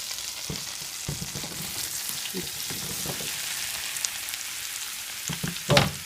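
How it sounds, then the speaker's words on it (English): Onions and mushrooms sautéing in melted butter in a pan, a low steady sizzle with scattered clicks and scrapes of stirring and a brief louder clatter near the end. "Now that the butter has melted, it's time to put in the onions and the mushrooms."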